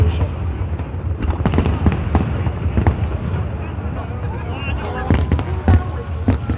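Chinese New Year fireworks over Hong Kong burst loud and close in rapid, irregular cracks and booms, layered over a constant crowd murmur with voices audible throughout.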